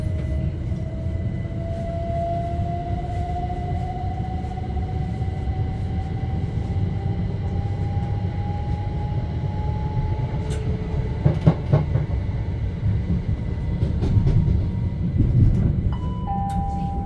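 A passenger train between Gatwick Airport and Lewes in the UK rumbles steadily from inside the carriage, with a low continuous drone, rising motor whine and occasional clicks and clacks over the rails.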